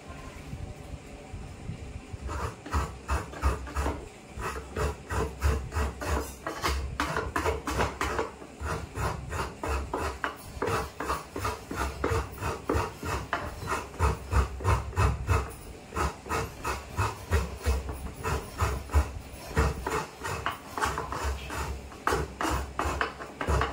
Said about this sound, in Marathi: आपण चटणीसाठी खोबरा किसून घेऊया